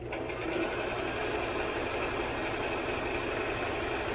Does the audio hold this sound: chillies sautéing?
no